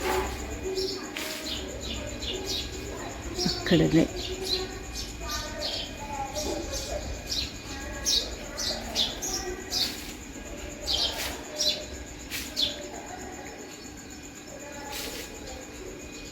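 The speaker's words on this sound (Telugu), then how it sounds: "పక్షులు చూడండి ఎంత అల్లరి చేస్తుంది" Several birds chirp and tweet in busy, overlapping bursts nearby, while a person says a brief word partway through.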